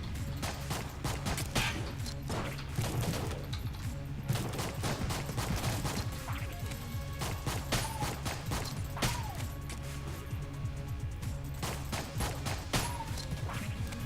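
Rapid gunfire from shooting enemies in Enter the Gungeon, dense bursts of sharp shots crackling almost continuously over busy game music, loud and close throughout.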